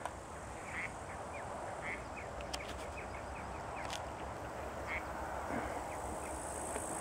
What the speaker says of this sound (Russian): Вон они крякают, перелетели уже.